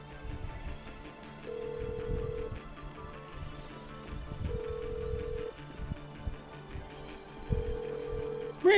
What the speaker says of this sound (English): Merriweather, come on, answer the damn phone.